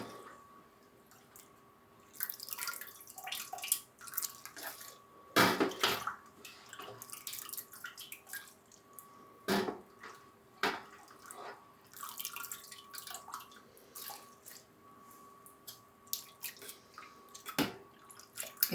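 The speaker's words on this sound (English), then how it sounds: "transfer all of the curd to one pot so that I can strain the whey into the other pot" Whey strained off cheese curd into a second pot while making Parmesan, heard as irregular drips, trickles and splashes of liquid with occasional sharper knocks, close and fairly quiet throughout.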